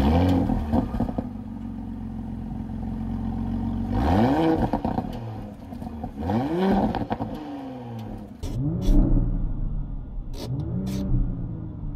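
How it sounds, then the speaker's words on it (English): A 2024 Porsche Cayenne base model's V6 with the optional sport exhaust starts from idle, then gives four sharp, close revs, each rising and falling back to a low idle rumble. "This one is optioned with the sport exhaust, and it actually sounds pretty good."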